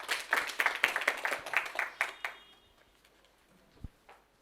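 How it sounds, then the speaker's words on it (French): Applause from a small workshop audience at an agricultural training session, a brief burst of hand claps for about two seconds that quickly dies away into room quiet with a faint knock near the end. "Et prêtez-moi vos mains pour applaudir."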